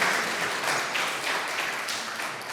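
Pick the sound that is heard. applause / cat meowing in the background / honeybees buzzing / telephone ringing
applause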